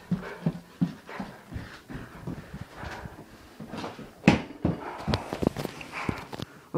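A dog pants and whimpers close by in short, uneven bursts, mixed with shuffling footsteps and faint knocks and scrapes, with no one speaking.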